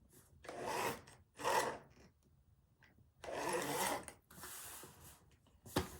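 A paper cutter trims about a quarter inch off the pages of a handmade junk journal, making several short rasping slices separated by quiet pauses, close and soft.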